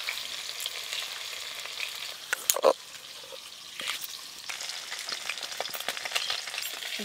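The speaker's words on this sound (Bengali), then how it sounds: "এগুলো হালকা করে ভেজে নেবো" Hilsa fish heads fry lightly in hot oil, giving a steady soft sizzle with occasional crackles and brief clinks of stirring throughout.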